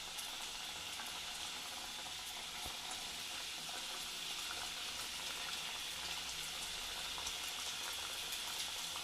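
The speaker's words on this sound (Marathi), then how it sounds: "आता याला मीडियम ते मध्यम गॅसवर तळून घ्यायचे आपल्याला" Sambhar vadi fry in hot oil on medium heat, a continuous soft sizzling and bubbling hiss, fairly faint and steady throughout.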